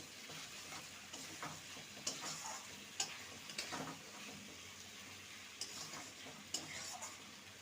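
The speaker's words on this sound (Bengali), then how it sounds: "ভেজে রাখা আলুর টুকরোগুলো দিয়ে দেবো ভালো করে মশলার সাথে কষিয়ে নেব" Fried potato pieces stir-fried with spice paste in oil, a spoon scraping the pan in irregular strokes over a steady, moderate sizzle.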